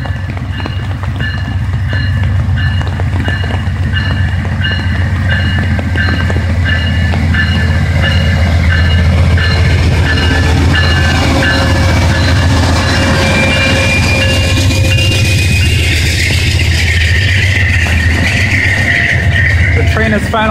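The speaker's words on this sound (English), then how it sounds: "The train is leaving the Northampton stop." An Amtrak Vermonter passenger train pulls out of the Northampton, Massachusetts station with a loud, steady rumble and rattle of rolling cars. Rhythmic wheel clatter runs throughout, and speech may be heard faintly in the background.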